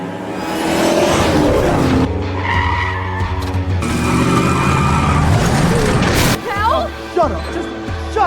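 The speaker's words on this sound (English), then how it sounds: "Elwood slowly walks home from the Roadhouse, his peace is disturbed by the sound of screeching tires." Car tires screeching on a road at night as a car races toward a man walking home, a loud drawn-out skid over a revving engine, followed by sharp impacts and thuds, with music and dramatic effects layered underneath.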